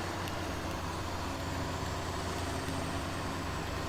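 The Berliet T100, a huge truck in SnowRunner, rumbles with a steady, loud diesel engine drone that holds constant without pause.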